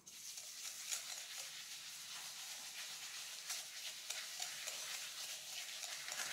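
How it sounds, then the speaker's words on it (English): Eggs being beaten one at a time into fudgy brownie batter, a steady wet whisking and stirring hiss that runs close and continuous with small uneven surges and no talk. "we've got 3 eggs and we're gonna add one at a time, okay? So we're gonna start mixing this in."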